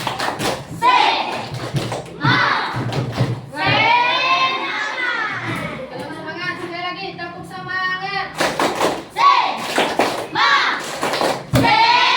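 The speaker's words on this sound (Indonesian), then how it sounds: "Sebelum kita mulai bekerja, tepuk semangat." A classroom group of children does a rhythmic spirit clap, bursts of quick unison clapping mixed with chanted children's voices, pausing midway for sung chanting before the clapping resumes loudly.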